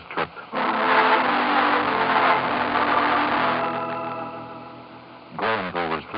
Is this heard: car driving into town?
yes